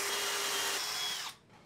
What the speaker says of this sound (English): now we'll put some pocket hole screws for the back portion of the bench.